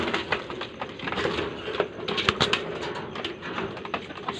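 Pigeons peck at scattered feed nearby, giving irregular quick taps and rustles mixed with soft cooing and a few wing flutters, with no one speaking.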